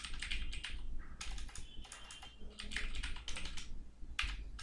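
Rapid bursts of keystrokes on a computer keyboard as code is typed, clustered clicks with short pauses between runs, close and clear with no speech.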